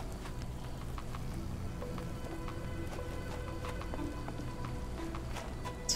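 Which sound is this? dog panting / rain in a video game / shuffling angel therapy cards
rain in a video game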